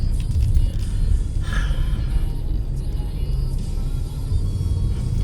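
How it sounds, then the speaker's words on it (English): Cars pulling up nearby make a steady, heavy low engine rumble that fills the scene throughout, with faint higher noise drifting over it. "People pulling up."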